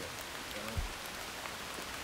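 Rain falling on the Rio Grande River, a steady faint hiss of drops with a single soft thump near the start and no talking.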